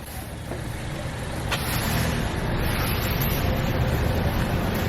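A car backing out with its engine running, a steady close rumble that grows louder partway through as the vehicle moves, with no voices.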